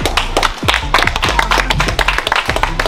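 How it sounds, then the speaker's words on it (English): Clapping and taps from a community gathering in Trench Town, dense and mixed with low voices and bassy background sound throughout. "Give him a round of applause for that."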